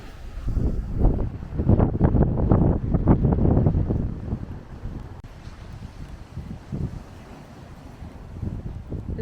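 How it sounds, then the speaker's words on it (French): Strong wind buffets the microphone on a beach beside a rough ocean, with loud gusty rumbling for the first few seconds, then easing into a steadier, quieter roar of wind and surf. "L'océan est en colère aujourd'hui. Il y a beaucoup de vent."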